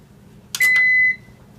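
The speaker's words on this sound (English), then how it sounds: "there was a little alarm that sounded, and it gives you a timer countdown" A KitchenAid KCO273SS toaster oven on bagel mode gives a short click and then one steady electronic beep lasting about half a second as it starts, close and clear in a quiet kitchen.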